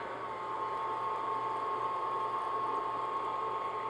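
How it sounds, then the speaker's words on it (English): An electric mixer on low to medium-low speed beats egg into choux paste, giving a continuous, even whir at moderate level with no pauses and no talk. "just keep your mixer on low, medium-low speed. And we're going to beat that until it becomes a smooth paste."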